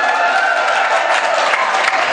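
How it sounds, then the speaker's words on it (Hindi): Audience applause at a ghazal mushaira in Barhapur, a steady, loud wash of clapping with crowd murmur throughout, sustained without breaks. "हाथ जेब में से निकाल के ताली बजाइए"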